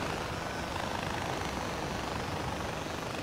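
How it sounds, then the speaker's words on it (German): A helicopter in the video game Far Cry 4 roars in a steady, dense rotor-and-engine drone, loud and unbroken throughout with no speech. "wenn ich so schnell mit dem Helikopter fliege oder Gyrocopter fliege"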